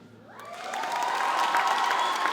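Audience clapping and cheering after a children's summer STEAM program performance swells from a quiet start into sustained, dense applause with scattered whoops, filling the room at a steady, fairly loud level.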